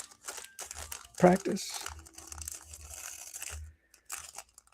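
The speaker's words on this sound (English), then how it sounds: "I'm gonna mute this so you won't hear the crunching." Crunchy snack being eaten during a live drawing session, a few crisp crinkly crunches, one loud burst near the middle, close and mixed with ongoing speech.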